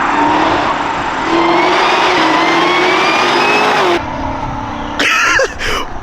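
Chevrolet Camaro ZL1 engine with a DSX supercharger lid, revving loud and close with a rising supercharger whine over the roar, then dropping off before a short second blip.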